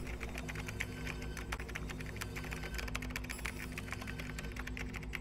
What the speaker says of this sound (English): you are really good texting or typing